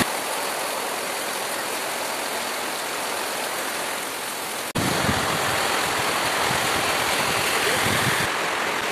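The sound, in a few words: heavy rain, water flowing on the road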